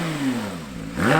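A Porsche 911 Turbo S engine on a dyno revs briefly to 9,000 RPM, dipping then surging upward in pitch near the end, a short, throaty burst heard close up.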